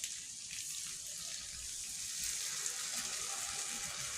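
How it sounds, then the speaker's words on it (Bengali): Running water splashes steadily into a sink while something is rinsed under the tap, a continuous moderate hiss with no pauses and no voices. "এটাকে ধুয়ে আমি আর একটু জল দেবো এর মধ্যে"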